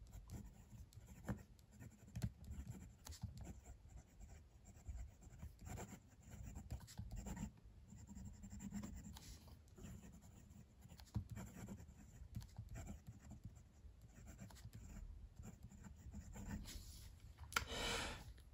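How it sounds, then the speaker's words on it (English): A Gravitas Pens Entry fountain pen writes on paper, giving a faint, close, continuous scratchy rustle of nib strokes with brief pauses, and no talk. "Okay, let's do some writing."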